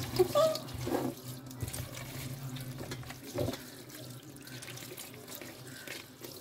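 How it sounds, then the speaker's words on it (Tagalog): Tap water runs into a kitchen sink while dishes are washed before cooking beef spring rolls, a soft steady stream with a few clinks and splashes, fairly quiet and close. "ito na lang ang huhugasan natin guys dahil ang the rest ay nahugasan na natin yun"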